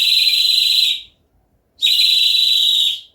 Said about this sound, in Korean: 이 빨대를 이용해서 바람을 집어넣습니다. 이렇게. 그럼 이게 새 소리가 되고